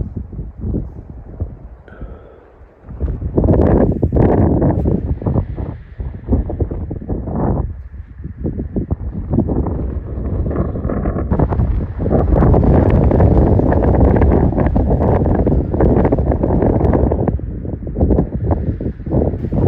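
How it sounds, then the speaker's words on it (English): Strong night wind on a jagged mountain peak near Los Angeles buffets the microphone in loud, sustained roaring gusts after a brief quieter start, with no talking. "the wind has picked up here"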